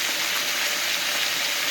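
Chicken pieces for lemon chicken fry in oil with coriander in a pan, giving a close, constant hissing sizzle that stays even and unbroken, with no voices.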